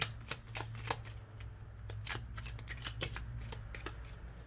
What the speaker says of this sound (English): Shuffle one last time.